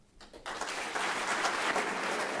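An evening audience breaks into appreciative applause, a dense, steady clapping that swells quickly after a brief quiet start and holds at full strength throughout.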